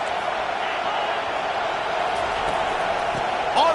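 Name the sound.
football stadium crowd cheering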